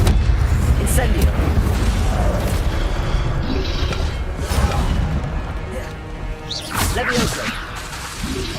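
Incendio fire spell cast in Hogwarts Legacy, loud whooshing bursts and booming impacts repeating through combat, layered with mechanical clatter and shouted voices.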